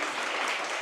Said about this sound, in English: So please give a round of applause to them.